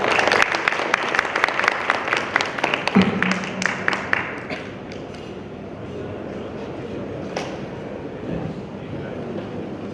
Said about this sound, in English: let's have a big round of applause for a great panel today